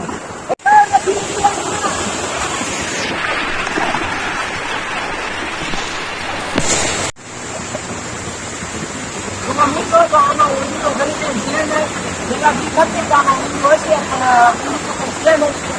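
River water flows with a broad rushing wash, fairly loud and close, while people talk and shuffle nearby in an outdoor forest setting.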